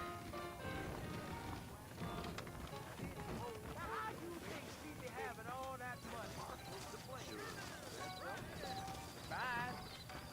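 Horse hooves clip-clop steadily amid a busy Red Dead Redemption game soundscape with a horse neighing and other background activity.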